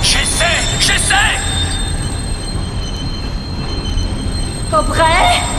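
A runaway rail wagon rolls along tracks in the video game Close to the Sun, loud and close, with a continuous rumble and bursts of high metallic wheel squeal near the start and end.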